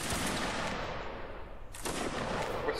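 Musket line volley fired during a line battle in a video game, a dense crackle of overlapping shots that rolls on, then a fresh burst of firing near the end, with no talking.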